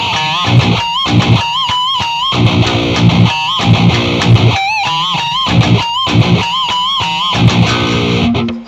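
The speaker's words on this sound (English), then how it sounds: "Lots of people do pinch harmonics famously." Heavily distorted electric guitar in a metal style, riffing with chugging low palm-muted notes broken by squealing pinch harmonics that warble with vibrato, repeating in bursts over about eight seconds with no talking.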